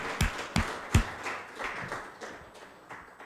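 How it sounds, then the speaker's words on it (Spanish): Several sharp claps at a church service, loud at first and then fading into a sparse, softer patter, with no voices. "Denle ese aplauso, pero con fuerza"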